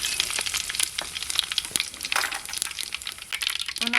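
Mustard seeds and cumin hitting hot oil, a dense crackling sizzle with sharp pops and spattering close by, steady for a few seconds.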